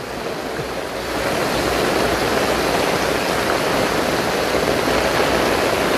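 Floodwater flowing toward the sea rushes in a dense, continuous roar close to the listener, swelling louder after the first second and then holding steady with no voices.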